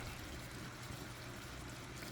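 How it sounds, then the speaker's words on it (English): Water pours steadily into a cooking pot already holding pumpkin and carrots, a continuous soft splashing and trickling that runs alone at a fairly quiet level. "And I'm gonna pour a little water in there."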